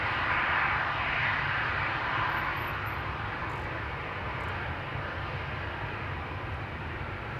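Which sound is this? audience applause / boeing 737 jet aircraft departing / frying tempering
boeing 737 jet aircraft departing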